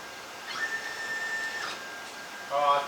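A budget CNC plasma cutting table moves through a dry run with no torch firing. Its faint, steady motor whine rises in pitch and then settles, with quiet, brief speech in the background.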